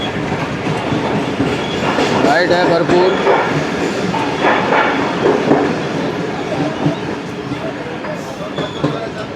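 A train rolls through Tando Adam railway station near Karachi with loud, steady clickety-clack of wheels on rails, squealing metal and rumbling cars, while someone talks over it.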